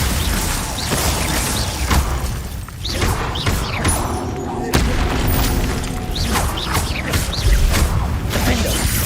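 Spell blasts in Hogwarts Legacy, including Confringo, Glacius, Protego, Stupefy and Depulso, fired in quick succession: a loud, dense barrage of booms, whooshes and shattering bursts with no pause, and a voice talking over it.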